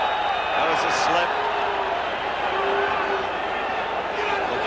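Boxing arena crowd at a Sugar Ray Leonard versus Floyd Mayweather bout, a steady roaring cheer that stays loud and dense throughout, with a commentator's voice running over it.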